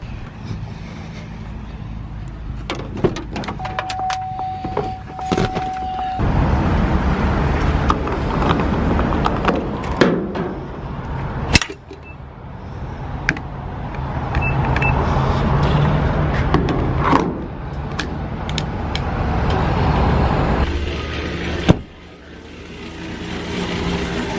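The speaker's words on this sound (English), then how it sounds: "So I'm going to hop in the truck and head over there." A pickup truck is driven along a road, its engine and road rumble holding steady and close for the whole stretch, with wind buffeting and a few sharp thumps and knocks from inside the cab.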